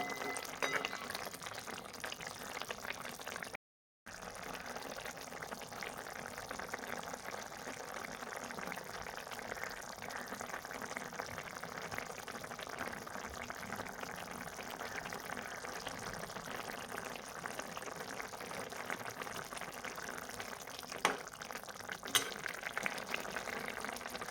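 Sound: vegetable simmering covered on low gas

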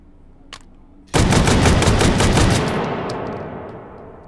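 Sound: AA-12 shotgun firing slug rounds in VR game Hot Dogs, Horseshoes and Hand Grenades

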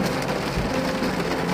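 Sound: light rain falling

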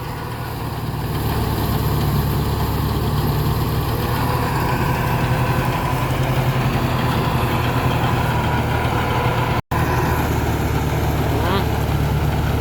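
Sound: tractor engine idling during rice threshing

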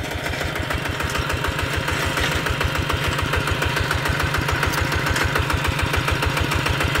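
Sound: Kubota RT155 tractor engine idling

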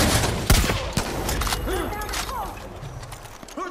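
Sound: gunfire in the video game Far Cry 5

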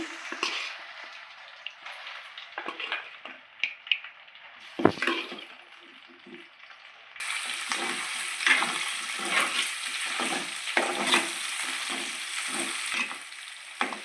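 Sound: chicken pieces frying in oil for chicken pickle

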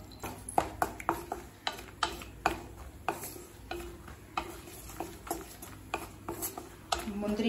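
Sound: cashews and almonds roasting in ghee in a kadai

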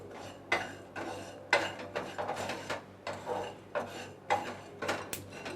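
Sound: stirring and roasting spices in a pan

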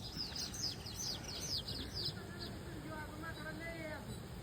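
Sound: birds chirping

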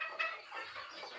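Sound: chickens clucking

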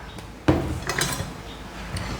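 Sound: knife slicing eggplant diagonally

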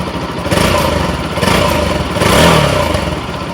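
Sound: motorcycle engine rattling

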